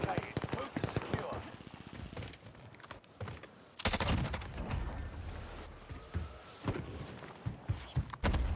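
Loud, rapid bursts of automatic gunfire crackle through a Call of Duty Warzone match on Rebirth Island, with repeated volleys and sharp impacts clustered closely together and no speech.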